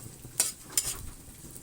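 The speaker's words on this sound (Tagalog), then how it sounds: "igisa lang natin ang sibuyas, bawang, as well as ito, yung papasarap din ito itong ginger or luya." Onion, garlic and ginger sauté in a pan for chicken curry, a faint low sizzle broken by two short, sharp stirring scrapes close by.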